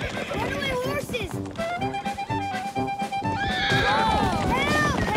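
Cartoon runaway horses whinny and neigh loudly over a busy musical score, with clip-clop hoofbeats and excited voices shouting throughout.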